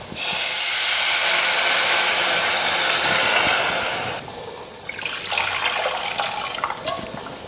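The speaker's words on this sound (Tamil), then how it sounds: "இப்போ நம்ம புளி கரைச்சோலையே அந்த தண்ணியை அதில் சேர்த்துருவோம்" Tamarind water for rasam pours steadily into a hot pan with a rushing hiss, then changes to a crackling, bubbling sizzle as it hits the pan.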